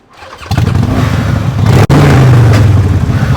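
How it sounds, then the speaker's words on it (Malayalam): A superbike engine cranks and catches after a quiet moment, then runs loud and close with a steady rumble, a brief cut-out and a rising rev, no talk over it. "സൗണ്ട് സ്റ്റാർട്ട് ചെയ്ത് കേൾപ്പിച്ചു കൊടുക്കേ"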